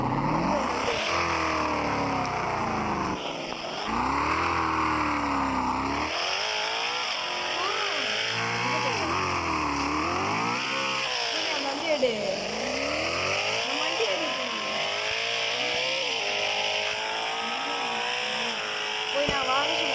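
Virtual car engines from the Roblox game Car Dealership Tycoon rev and drone through gear changes, with pitch rising and falling, while people talk over them throughout.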